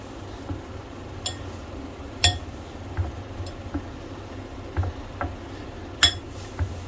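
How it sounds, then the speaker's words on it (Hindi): Boiled potatoes being mashed in a bowl for chicken cutlets, heard as irregular metallic clinks and taps of a utensil against the dish, about a dozen sharp knocks spread over a low steady background. "और आलूओं को मैं अच्छी तरह मैश कर लूंगा।"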